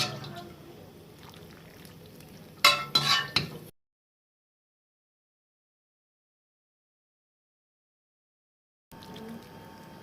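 A pot of stuffed cabbage rolls in broth is shifted and shaken, a short burst of clinks and sloshing between quieter stretches, then a long silence before faint room noise returns.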